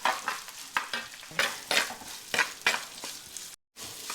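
Sliced big onion sautés in a pan as the base of a Trivandrum-Kottayam style king fish curry, a close frying hiss broken by repeated rhythmic stirring scrapes, with one brief silent gap.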